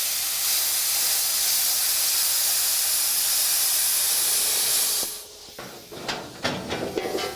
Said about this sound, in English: First, we'll plasma cut the floor pan out of the way.